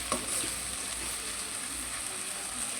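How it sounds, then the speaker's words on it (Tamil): A few cloves of crushed garlic fry in hot oil for a squid gravy, giving a steady, close, bright sizzle with a brief crackle at the start and no voices. "கொஞ்ச நேரம் ஆயிலில் நல்லா ஃப்ரை ஆகட்டும்."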